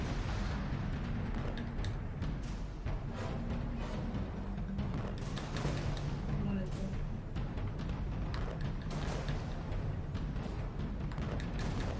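Gunfire from a third-person action game, Alice Madness Returns, rolls on as a dense, continuous barrage of shots and bursts at steady loudness for the whole stretch.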